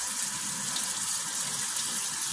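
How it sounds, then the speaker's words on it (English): Tap water runs in a steady, close gush into a sink while raw chicken drumsticks are rinsed under it, a continuous unbroken wash of water with no talking. "Just pulling the skin back and washing it under the water."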